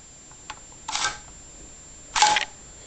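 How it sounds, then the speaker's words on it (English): Two quick mechanical clacks from a G&G SCAR L airsoft rifle as its bolt handle is pulled back and locked, close and fairly loud, with a faint tap just before; no talking. "Pull the bolt back, press the bolt catch in to lock the bolt."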